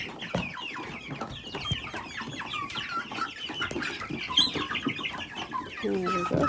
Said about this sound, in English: Lots of chicks. 4 Brahmas, purebreds.